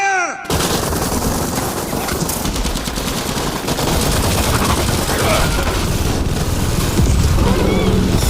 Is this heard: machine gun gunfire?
yes